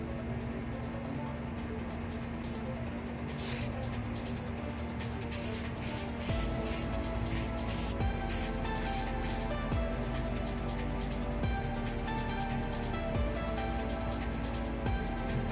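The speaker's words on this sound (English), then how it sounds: "what I'm going to do is just spray a little piece up in here so that it stays and doesn't go anywhere" Spray adhesive hisses onto the fabric of a car trunk side panel in a series of short close bursts over a steady background hum.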